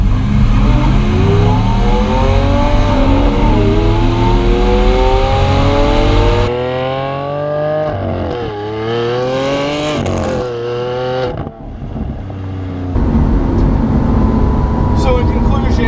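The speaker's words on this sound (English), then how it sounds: "I want to listen to the natural engine, natural music, if you will, and that is the exhaust note" A 2016 Lamborghini Aventador SV's exhaust roars up through repeated loud, close revs, its pitch climbing and falling in sweeping waves, with a sharp cut-off and a brief lull before the engine note picks up again.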